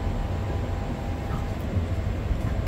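Inside a Class 323 electric train running from Stockport to Manchester Piccadilly, a steady low rumble and hum of wheels and motors fill the carriage, constant and fairly loud with no break.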